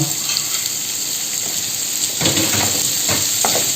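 Coriander stalks with cleaned tender roots, then capsicum, hitting hot oil in a pan and sizzling, a steady broadband hiss with a few sharper crackling bursts in the second half.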